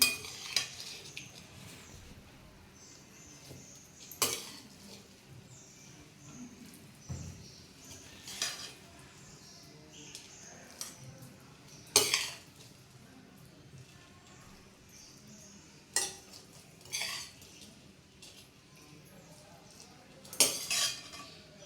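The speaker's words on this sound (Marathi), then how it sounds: "गॅस बंद करून एका बाऊलमध्ये मी काढून घेते" A cooked mixed-vegetable dish is spooned from a pan into a bowl after the gas is turned off. Sparse metallic clinks and scrapes of a spoon against cookware are spaced out over quiet stretches.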